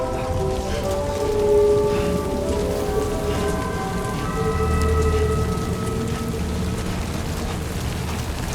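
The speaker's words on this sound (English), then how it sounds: "Oh, so it's raining again." Steady rain falls in the video game Death Stranding 2, a dense continuous hiss with low rumbling undertones, like a downpour on surfaces, alongside sustained tonal game ambience and no talking.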